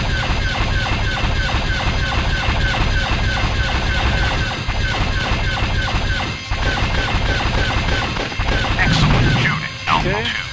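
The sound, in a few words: laser fire and explosions in Star Wars TIE Fighter video game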